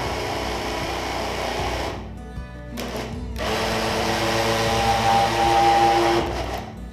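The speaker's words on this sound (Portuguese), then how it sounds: "E aqui eu vou bater tudo até liquidificar." A blender whirs through gluten-free, lactose-free coconut cake batter made with a gluten-free flour mix. The motor drones loud and close, and two short pauses break the steady run.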